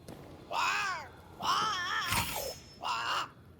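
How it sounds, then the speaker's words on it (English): Crow in the Banishers: Ghosts of New Eden video game, giving three drawn-out, wavering harsh caws in sequence, close and fairly loud over a quiet background, the middle call longest and ending in a crackly rasp. "But it's a bird. It's Ceridian, by way of the invisible, speaking through the crow."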